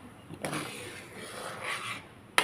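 Melting butter stirred in a pan on the stove while making homemade ghee, a soft scraping rub of the spoon over a low sizzle, ending in a brief clink.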